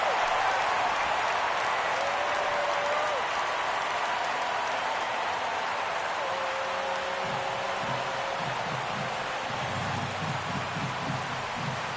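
A simulated ballpark crowd from MLB The Show 17 roars in a steady, loud wash of cheering during a full-count pitch. Faint tonal organ-like notes drift underneath.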